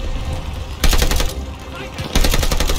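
Machine gun fire in Call of Duty Vanguard, during an assault on an enemy machine-gun bunker, comes in two loud rapid bursts separated by a short gap, over a constant low battlefield rumble.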